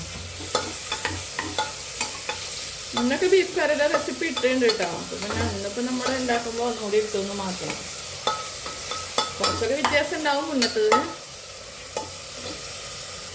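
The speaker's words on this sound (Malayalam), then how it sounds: "അപ്പൊ ഇനി നമുക്ക് തക്കാളി ഇട്ട് കൊടുക്കാം" Tomato and onions sizzle in a pan while a spoon stirs and scrapes them, giving a continuous frying hiss broken by clicks and scrapes. Someone talks over much of it.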